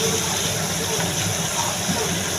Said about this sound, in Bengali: এখন আমি জল দিয়ে দিলাম, সব কষানো হয়ে গেছে, জল দিয়ে দিলাম